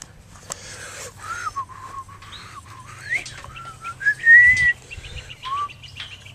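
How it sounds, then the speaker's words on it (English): A horse makes bird-like whistling noises, a series of thin rising and falling squeaky whistles and chirps close by, one louder sustained whistle near the middle, over a faint low rumble. "Horses making bird noises."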